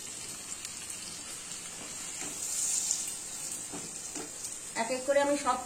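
Onions fry faintly in a pan with capsicum and coriander, giving a soft, steady sizzle with light stirring. A short voice-like sound comes near the end.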